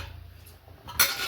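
A spoon stirring cucumber pieces in a bowl for chutney, with soft muffled shifting and then a sharp metallic clink near the end.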